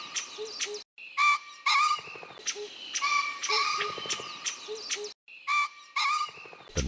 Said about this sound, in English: Its explosive kokyok call, followed instantly by a violent burst of wing beats